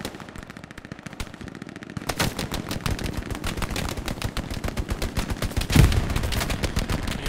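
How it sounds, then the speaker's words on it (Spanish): Dense machine-gun and rifle fire in the World War II shooter Hell Let Loose, rapid bursts rattling continuously after a quieter opening stretch, with a sharper close report near the end and no talking. "Lo disparan desde el punto."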